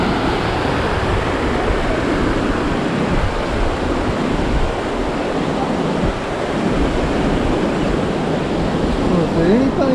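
Ocean waves wash continuously onto the beach at Tybee Island, Georgia, a broad steady surf roar with wind buffeting the microphone throughout.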